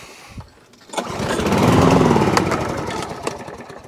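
A Hayter 48 lawn mower engine, a dump find tipped on its side, pulled and catching to run with a loud, steady rumbling drone after a brief quieter start-up attempt.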